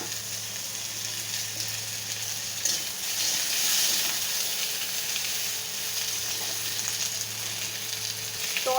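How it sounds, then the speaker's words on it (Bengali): Small cucumber cubes drop into hot oil and fry with a loud, steady sizzle that swells briefly midway, close and continuous with no talking. "তেলটা এই যে গরম হয়ে গেছে, আমি দিয়ে দেব এই যে কিউব করে ছোট ছোট পিস করে কেটে রাখা শসাগুলো"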